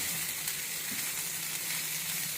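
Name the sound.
stirring cabbage salad in a pan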